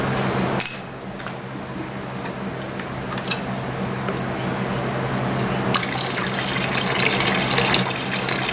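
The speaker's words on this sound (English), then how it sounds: "So I'll dump this bottle out and put some fresh coolant in there." Fresh coolant pours into the overflow bottle of a 2000 Yamaha YZF R6 motorcycle, a steady close trickle with a brief plastic knock near the start, swelling slightly toward the end.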